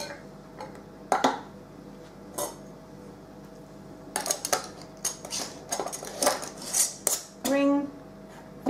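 A canning jar lid set on a jar rim of home-grown pumpkin and twisted finger tight, heard as close metallic clinks and ticks, then ratcheting scrapes of the band turning, with talk alongside.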